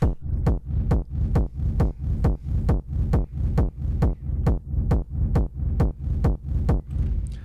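A deep, throbbing sidechained synth rumble for techno pumps in a steady, regular rhythm, each pulse swelling and then ducking sharply. It is loud and continuous, with no voices.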